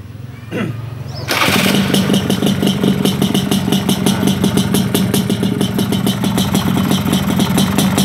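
A Yamaha L2 Super motorcycle kicks over and fires, its engine catching after a brief attempt. It settles into a loud, close, even idle with a rapid, steady beat, with the oil pump adjustment under test.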